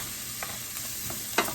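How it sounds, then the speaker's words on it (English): Onions sizzle and crackle in a pan, with a soft steady hiss, a few stirring scrapes and a brief louder clatter near the end. "Letting those onions cook just a tad more"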